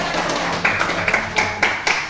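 Classroom children clap their hands in a short burst, with several louder sharp strikes standing out over a steady patter, close and fairly loud.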